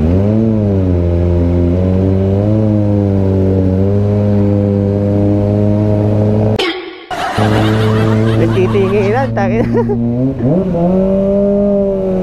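A Kawasaki ZX25R motorcycle engine idles high and steady, cuts off briefly, then surges into sharp rising revs. It is loud and close, and a brief spoken word is heard.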